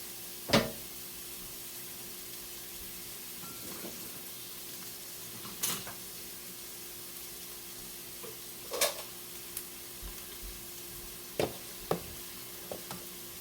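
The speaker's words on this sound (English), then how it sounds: "We're going to saute our onions." Soft continuous sizzle of onions sautéing in oil in an Instant Pot, with a few sharp clicks and knocks of a utensil against the pot.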